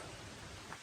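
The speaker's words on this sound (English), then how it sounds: "It's raining." Steady rain hiss on a street in Tbilisi, Georgia, a dense even patter filling the background with no pauses, fairly faint and continuous throughout.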